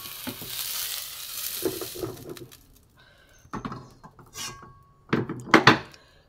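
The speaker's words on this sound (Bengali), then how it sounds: "ডাঁটাগুলো ভাজা হয়ে গেছে" Drumstick stems frying in a pan give a soft sizzle under scraping stirs and clinks of a utensil against the pan, faint and broken by short pauses.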